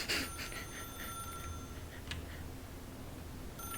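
Telephone ringing inside the video game The Stanley Parable, a steady electronic ring that repeats through the clip over a low room hum, fairly quiet and with no voices.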